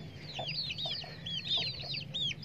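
An Aseel hen clucks close by in a backyard coop where her chicks are kept. Repeated short clucks come over a low steady background hum, with no talk.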